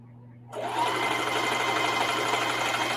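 A sewing machine stitching a denim crossbody bag starts up after a brief hum and runs in a steady, fast, even whir close by with no talk.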